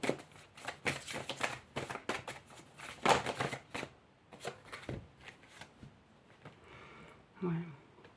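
Gaïa oracle cards being shuffled in repeated crisp riffling bursts, close and fairly soft, with brief gaps between them and a moment of speech near the end.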